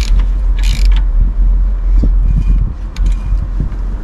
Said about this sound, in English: then I'm gonna torque it